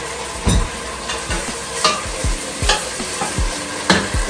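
Coffee-glazed pork chops frying in a hot pan, with bursts of sizzle and sharp stirring or scraping knocks recurring every half second or so, close and fairly loud.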